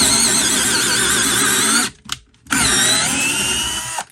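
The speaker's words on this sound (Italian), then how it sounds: "con questo avvitatore riesce ad andare tranquillamente in profondità" A Parkside 12V cordless angle drill driver whines loudly while drilling deep into material, stopping briefly around the middle and then resuming at full speed.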